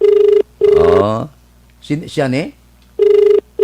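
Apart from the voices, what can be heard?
telephone ringing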